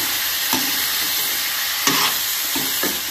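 Potatoes and carrots dropped into a hot pan for a gahori-style dish, giving a steady frying hiss broken by a few soft stirring scrapes, close and moderately loud with no talking.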